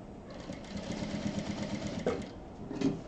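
A sewing machine stitching along the edge of fabric for a pouch, running steadily at close range with a fast, even mechanical whir and a couple of brief knocks near the end.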